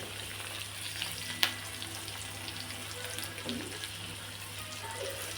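Green chillies and garlic frying in hot oil for a drumstick pithla: a steady, soft sizzle that runs throughout, with one sharp click early on and faint stirring noises.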